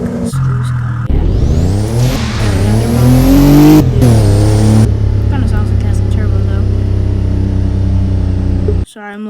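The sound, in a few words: sports car engine revving in video game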